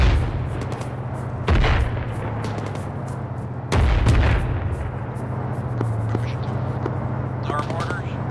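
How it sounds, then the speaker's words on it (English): Mortar rounds impacting in the Arma 3 military shooter, two heavy booming blasts a couple of seconds apart over a low rumbling battlefield hum, with voices talking across the scene. "there's red smoke, there's mortars"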